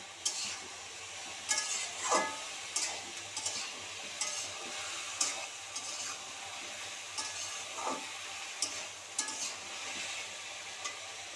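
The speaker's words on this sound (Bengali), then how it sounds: "হলুদ, পরিমাণ মতো দিয়ে আবার একটু নেড়ে দিব" Ash gourd pieces stirred with turmeric and salt in a pan, a soft continuous fry with repeated scraping strokes of a spatula every second or two, close but fairly quiet, no voices.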